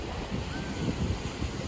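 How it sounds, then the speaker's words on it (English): Steady wind buffets the microphone beside cold water, a continuous broadband rush with low gusty rumbles and a faint wash of surf beneath it. "It's very windy."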